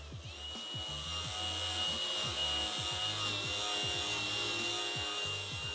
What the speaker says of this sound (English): We'll start with the flap disc on the grinder.